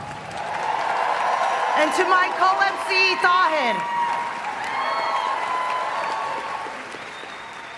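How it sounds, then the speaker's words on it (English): Conference audience applause for Palestine fills the room as a steady, crowd-wide clapping, with whoops and cheers rising over it and a voice speaking over the tail. "Give yourselves another round of applause."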